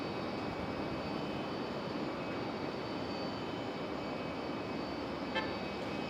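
A United airliner on the runway at Raleigh-Durham International Airport, a steady broad jet engine roar heard from a distance, constant and moderately loud throughout with a faint high whine on top.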